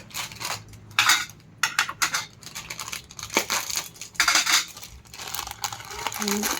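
Aloo bhujia tumbling into a bowl of ghughni chaat, a run of dry rustling, crinkling patters and light clinks from the bowl, close and intermittent, with no talk.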